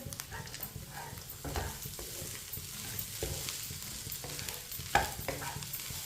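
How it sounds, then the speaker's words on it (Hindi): A spoon stirs semolina halwa with dry fruits, peanuts and raisins in a pan, giving soft repeated scraping and gentle sizzling at a low, steady level with no talk. "अब 2 मिनट के लिए चम्मच चलाते हुए पका लेंगे।"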